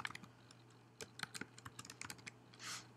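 Rapid keystrokes on a computer keyboard while signing up for an account, a close, irregular run of light clicks with a brief burst near the end and no talking.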